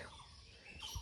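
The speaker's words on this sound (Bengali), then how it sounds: "তারপরে যে পাখির কিচির মিচির আওয়াজ" Faint morning birdsong: a few soft, brief chirps and tweets in the distance over a quiet background, with no talking.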